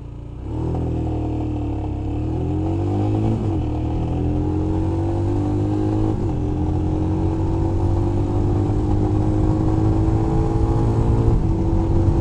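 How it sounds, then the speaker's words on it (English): Royal Enfield Himalayan adventure-tourer motorcycle launching on a straight road, its single-cylinder engine loud and close, revving up through several gears with rising pitch between shifts and no talking. "I'm gonna show you the acceleration of the bike."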